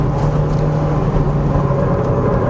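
A 2006 Mitsubishi Evo IX MR engine droning steadily and loud through a corner, a constant close mid-pitched hum with no voices over it.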